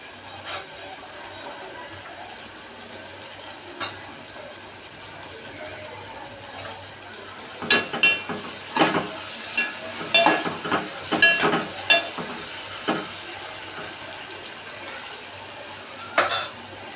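Green chillies for a pachakura (leafy greens) curry fry in a pan with a soft steady sizzle, broken by scattered spatula scrapes and metal clinks that cluster toward the middle and end, with no talking.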